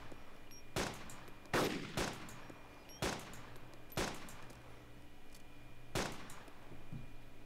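Repeated gunfire from the DayZ mod video game: five or six sharp, loud single shots spaced about a second apart, each with a short decaying tail over a steady low background hum, no talking.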